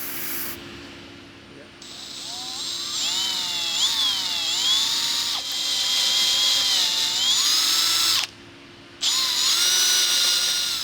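A power drill whines loudly, pitch rising and dipping as it bites into material, stopping briefly twice before resuming.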